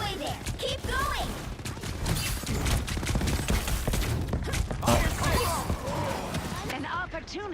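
Helldivers gunfire fills the scene with a dense, loud barrage of shots, thuds and explosions, layered with near and distant booms while players talk over the chaos.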